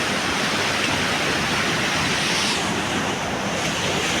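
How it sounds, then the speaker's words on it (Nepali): A large river rushes past in a steady, loud, broadband roar with no break, heard close to the water. "खोला चाहिँ निकै ठुलो भइरहेको छ अहिले"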